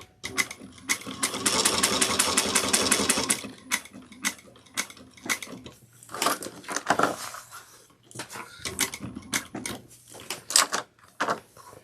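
A sewing machine back stitching a bag, running in quick mechanical bursts with short pauses between, close and fairly quiet.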